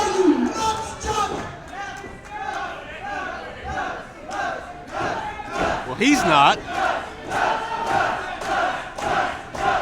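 Crowd at an IWC wrestling event yelling and cheering in rising and falling waves, with someone talking loudly over the noise.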